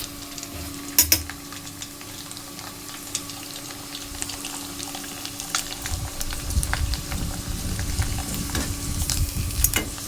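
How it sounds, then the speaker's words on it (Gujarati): Sago wafers (farali sabudana wafers) deep frying in hot oil, giving a close, steady crackling sizzle that swells noticeably louder in the second half, with a couple of light clinks early on. "આપણું તેલ ગરમ થઈ ગયું છે અને આપણે સાબુદાણાની વેફર તળી લઈશું ફરાળી વેફર"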